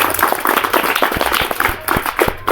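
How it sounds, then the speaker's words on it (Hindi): A group of children at a government middle school welcome event claps for themselves, a brisk run of overlapping, uneven hand claps, fairly close and loud, with faint voices underneath. "सहमत है तो फिर ताली बजाइए अपने लिए।"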